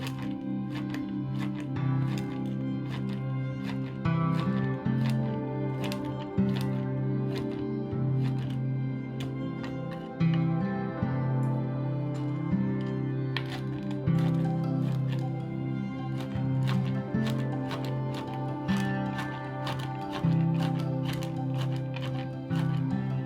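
A knife chops food into small pieces on a board for a Korean soy sauce noodle dish, with steady, quick taps running under continuous background music.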